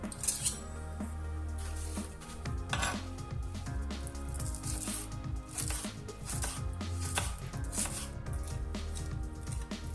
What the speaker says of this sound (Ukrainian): почнемо нарізати зелень